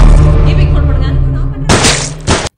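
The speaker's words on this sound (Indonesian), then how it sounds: "terdengar 2 kali bunyi letusan pistol" Two sharp pistol shots burst out in a film scene, loud and broadband, the first near the middle and a second a half second later, following a low rumbling music bed.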